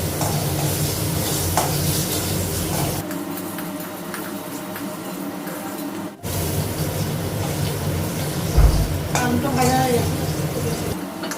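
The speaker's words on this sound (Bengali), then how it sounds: "আলুগুলো লাগালাম কড়াইটা খুব গরম হয়ে গেছিল হলুদ দিয়েছি" Potatoes with turmeric sizzle in a very hot wok, a constant frying hiss with stirring scrapes and occasional pan knocks close by, and a person talking over it.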